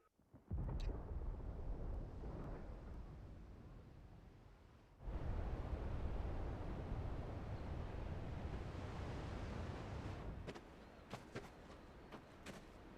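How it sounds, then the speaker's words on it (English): Deep rumbling thunder in the war-torn city of Final Fantasy XVI rolls through a broad wash of wind-like noise, swelling louder midway and then easing, with a few faint sharp clicks near the end. "Sounds like thunder."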